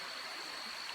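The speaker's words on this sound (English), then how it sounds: "It's just a babbling away there." A creek babbling near a campsite in Whiteoak Canyon, Shenandoah, heard as a faint, steady wash of rushing water with no other sounds.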